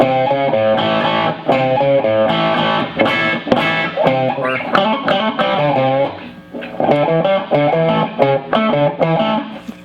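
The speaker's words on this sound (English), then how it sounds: "when you split a blues bucker, it sounds like a Strat pickup" Electric guitar with a split blues bucker humbucker giving a bright, Strat-like single-coil tone, playing busy, continuous chord and note phrases with light overdrive, close and loud.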